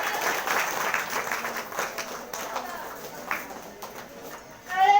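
Applause from a church congregation giving thanks to God during a Sunday prayer service, a dense patter of claps with voices mixed in, fading slightly before a louder burst at the end.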